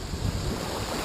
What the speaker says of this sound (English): See a bit of swell breaking out there.